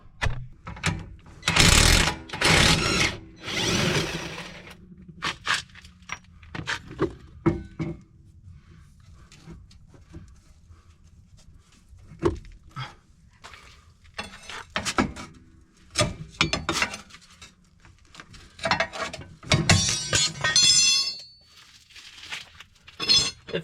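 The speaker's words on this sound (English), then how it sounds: "We'll just use a rattle gun." A rattle gun undoes a shock absorber bolt on a Renault Twingo II, with loud bursts of rapid hammering and clattering metal close by, separated by quieter handling noises.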